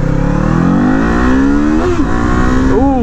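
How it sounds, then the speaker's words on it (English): A Kawasaki motorcycle engine revs steadily higher, its pitch climbing for about two seconds before briefly dipping and surging again, loud and close throughout. "it feels really good revving out that far"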